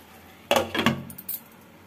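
A metal lid set onto a pan of sabudana khichdi, a quick run of close clinks and rattles over about a second, then quiet.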